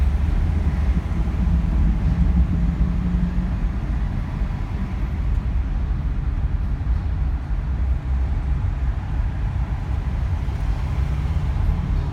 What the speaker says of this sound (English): Downtown LA traffic.